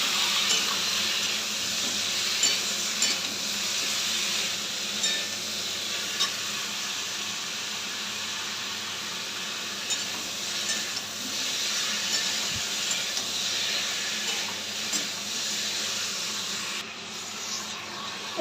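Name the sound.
ginger-garlic paste frying in a pan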